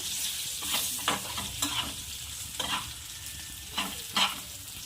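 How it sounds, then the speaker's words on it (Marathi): Green chillies frying with crushed peanuts in a pan, stirred with a spoon: repeated scraping strokes at an uneven rhythm over a steady low sizzle, close and clear, with no talking. "आणि दाण्याचं कूट ॲड करायचं आहे थोडं फ्लेवरसाठी आणि छान असं मिक्स करून घ्यायचं आहे"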